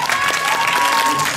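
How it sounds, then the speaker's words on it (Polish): Applause from an audience at a scout troop (ZHP) event in a community culture and sports centre, a steady dense wash of clapping with a faint whistle-like tone running through it. "Wielkie brawa!"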